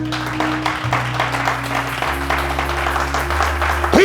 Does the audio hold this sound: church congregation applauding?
yes